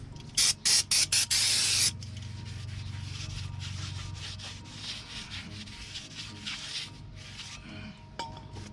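Brake parts for a small brake kit are sprayed in short loud hissing bursts from a can of brake cleaner, then rubbed and wiped with steady scuffing close by.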